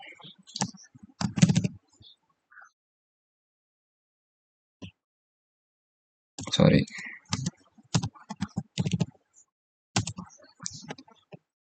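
Someone types a command on a computer keyboard in short, intermittent bursts of quiet keystroke clicks separated by silent gaps, recorded close and faint.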